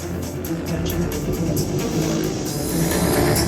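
At a monster truck show arena, Terry Grant's stunt car chases bike rider Lee Bowers, its engine droning and revving steadily with a rising growl toward the end, heard from a distance across the venue.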